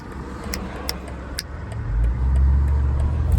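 BMW 330i accelerating on the German Autobahn at night, heard from inside as a steady engine and road drone that swells into a deeper, louder rumble partway through, with no voices.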